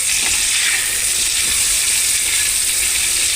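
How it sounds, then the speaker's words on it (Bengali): Onion and capsicum frying in a pan for chilli chicken: a steady, close, loud sizzle with a bright hiss that holds without a break, and no voice over it. "পেঁয়াজ আর ক্যাপসিকামটাকে ভালো করে ভেজে নিচ্ছি হালকা করে, একটু লাল লাল করে"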